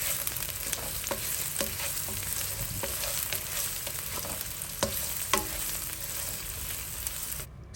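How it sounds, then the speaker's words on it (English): Five eggs are whisked with soy sauce in a bowl, quick, light repeated taps and scrapes of the whisk against the side, fairly quiet over a steady sizzling background hiss. "So go ahead and whisk that up, whisk it up."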